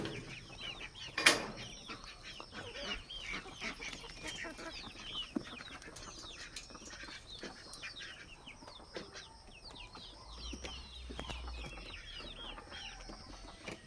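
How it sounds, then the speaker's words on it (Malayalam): Newly bought young chicks cluck and peep in a loose, irregular chorus at moderate volume, with a sharp louder call early on and occasional soft rustling between calls. "ഇതാണ് ഗൈസ് നമ്മൾ വാങ്ങിയ കോഴിക്കുട്ടികൾ"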